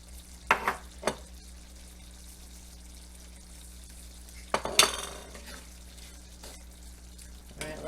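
Pasta simmers in a single pan with ground beef and cheese sauce as the liquid cooks down. A soft, low bubbling sizzle runs beneath a few clinks and clatters of a utensil against the pan.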